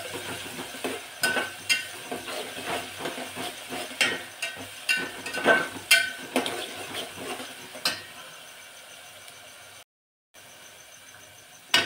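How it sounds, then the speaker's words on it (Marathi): Chili, ginger and garlic sautéed in a pan for masala rice, with repeated scraping stirs and light sizzling over a steady low hiss, close and moderately loud, easing into quieter frying after a brief dropout. "आता हे मिरची, आलं, लसूण सुद्धा कच्चेपणा दूर होईपर्यंत परतून घेऊ आपण।"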